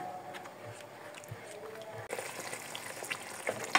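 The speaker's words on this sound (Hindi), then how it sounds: "टमाटरों का पेस्ट ये देखिए अच्छी तरह फ्राई हो गया और ऑयल निकल आया" Tomato paste masala frying in oil for a fish curry, a faint, steady crackling sizzle with small pops that grows a little brighter and busier halfway through.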